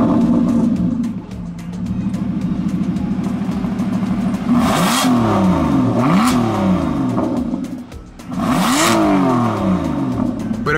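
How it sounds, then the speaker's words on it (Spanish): Aston Martin engine started with the key, settling into a low idle before three sharp revs that climb and fall back, loud and close with no talk over it. "permítanme meter la llave para que vean cómo se prende."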